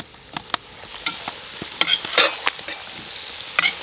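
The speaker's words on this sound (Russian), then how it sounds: "Тут также интенсивно перемешиваем, но с особой осторожностью, чтобы не передавить нашу морковку" Carrots for Fergana-style Uzbek plov are stirred in a pan, with repeated sharp spatula scrapes and clicks over a continuous sizzle, close and fairly loud, and a dense burst of frying in the middle; no speech.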